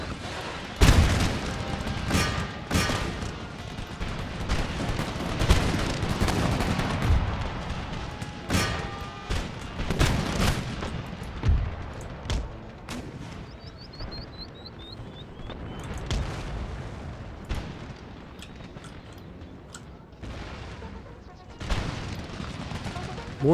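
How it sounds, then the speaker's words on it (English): Canister shot artillery in Empire: Total War, with dense volleys of cannon and musket fire cracking and booming over a chaotic battlefield din and a long rolling rumble. "And now for canister shots"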